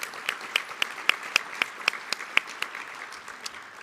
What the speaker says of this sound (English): So a big round of applause for Abdullah H. Hammoud and Bill Bazzi